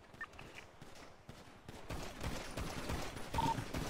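Rapid gunfire in a video game shootout in GTA NoPixel roleplay, starting sparse and quiet, then building into a dense, continuous volley of overlapping shots that grows louder toward the end.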